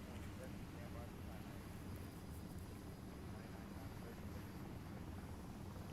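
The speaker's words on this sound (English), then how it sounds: "I can actually hear a helicopter flying around outside." A helicopter flying around outside, a routine patrol that circles every quarter hour, produces a faint, steady broadband rumble that stays constant throughout with no talk over it.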